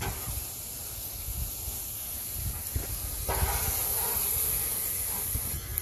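Peppers and onions sizzle on a Blackstone outdoor griddle in a steady, close hiss that swells louder partway through, with no talking.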